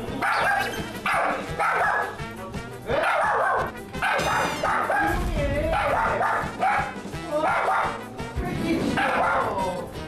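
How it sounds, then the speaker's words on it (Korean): A dog barks repeatedly in an office, with yips and whimpering mixed in, loud and close, and people talk over the barking throughout. "얘 좀 안 짖으면 그나마 괜찮을 것 같은데 사람 지나갈 때마다 짖어가지고"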